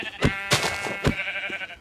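Sheep in Minecraft bleating in several short, close, wavering calls in quick succession, with no talk.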